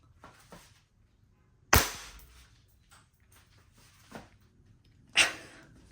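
A silver WE T-Rex Hi-Capa gas blowback airsoft pistol fires two sharp, loud cracks a few seconds apart, each with a snapping slide cycle, between softer mechanical clicks and quiet handling noise.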